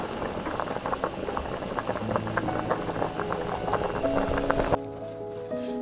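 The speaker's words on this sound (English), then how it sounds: "So while the potatoes are boiling" Water bubbling at a rolling boil in a pot of sliced potatoes, a dense close burble that stops abruptly near the end, leaving a low hum.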